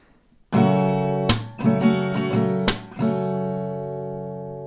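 An acoustic guitar strums a single chord in a rhythmic pattern, with sharp percussive hits between the strums and the last chord ringing out.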